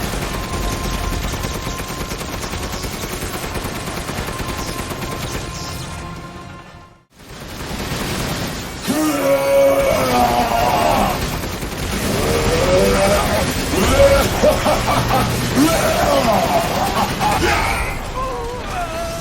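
Loud, dense gunfire rattles almost continuously in Resident Evil Village on PlayStation 5, broken by a brief near-silent gap before heavier bursts resume amid game effects and a voice.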